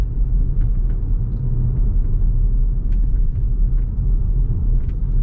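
Steady, loud low road rumble inside a Citroën C3 Aircross Shine 1.0 Turbo SUV driven over rough pavement, with faint scattered knocks and rattles from the suspension throughout and no talking.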